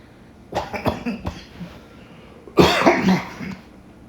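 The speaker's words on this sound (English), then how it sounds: "Sorry about the cough, guys." A person coughs in two bursts, a few short hacks, a pause, then a heavier, longer cough, close and fairly loud.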